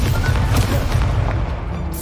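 Fiery spell blast from Hogwarts Legacy, a steady low booming rumble with crackling texture that holds loud for about two seconds before easing off.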